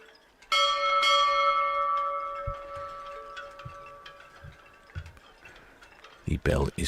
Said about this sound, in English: The bell is delayed